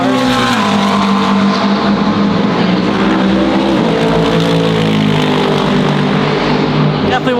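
GT race cars in qualifying roar past close by, engines revving loud and continuous with shifting pitch, a voice speaking over the engine noise.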